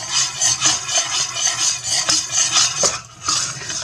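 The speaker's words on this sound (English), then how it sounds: "When you keep it stirring like this, it's really not going to take long for it to actually, thick up and stick to your spoon" A spoon stirring béchamel sauce made with heavy cream in a pan: rapid, rhythmic scraping strokes against the pan, close and fairly loud, with a brief pause near the end and no speech.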